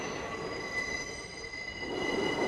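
A New York City subway 6 train runs through the tunnel past Brooklyn Bridge, its wheels giving off steady high-pitched squeals over a low rumbling rail noise, fairly faint and without voices.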